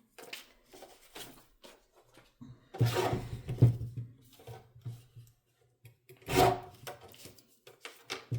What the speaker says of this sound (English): And then I'm gonna trim the excess off using my guillotine.